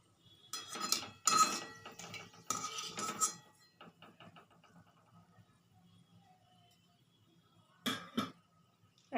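A metal utensil scrapes and clinks against a pan while lifting fried onions (beresta) during chicken korma cooking. There are a few close, short bursts of scraping separated by quiet stretches, with one more burst near the end.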